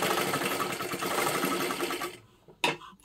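A sewing machine runs a second line of stitching along a garment's fabric, a fast steady whirr that holds for about two seconds and then stops, followed by a short single burst.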